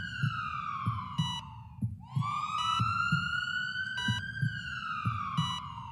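An ambulance siren wails in the video game Emma's Party Palace, a rising and falling electronic tone with a pulsing beat underneath. It is loud and steady, with no talking.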